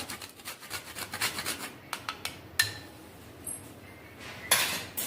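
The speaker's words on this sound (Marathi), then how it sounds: "थोडं जायफळ किसून घेऊया आपण यात" Nutmeg is rasped against a small grater in quick, dry scraping strokes, close and quiet, with a few light metallic clinks between them, while preparing mutton curry.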